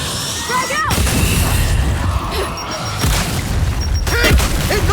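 Frag grenade explosions in the Gears 5 video game, heavy booms at about one, three and four seconds over dense battle noise, with voices calling out between the blasts.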